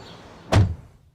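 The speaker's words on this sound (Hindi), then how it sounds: "जैसे ही कार का दरवाज़ा बंद हुआ" A single car door shuts with one short, solid thud close by, followed by quiet.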